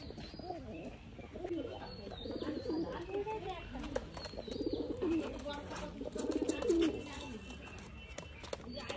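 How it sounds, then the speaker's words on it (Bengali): Pigeons coo in soft, low, rolling phrases that repeat close by over a murmur of background sound, while people talk quietly nearby. "দুটো দুটো পায়রাগুলো কি করছে?"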